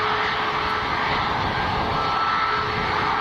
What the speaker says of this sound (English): 2 Ryanairs coming out for departure at the moment